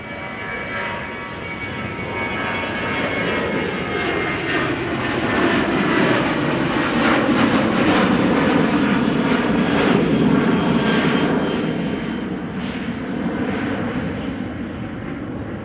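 A KLM jet airliner rolls for takeoff at Schiphol, its engines building to a loud, steady roar that swells and then slowly eases as the aircraft moves away.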